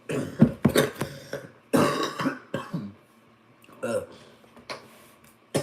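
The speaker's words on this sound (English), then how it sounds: "I think I've been waiting to get that cough out for the past 2 minutes" Several harsh coughs burst out close by in quick succession, then a few scattered throat-clearing sounds trail off into quiet.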